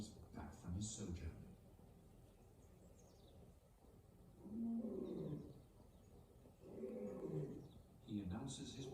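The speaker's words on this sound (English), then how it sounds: "He announces his presence with a bellowing roar, which can be heard for up to 5 miles." A male lion in a wildlife documentary gives deep, rumbling roars in slow swells under a narrator's voice, all heard faintly and at low volume.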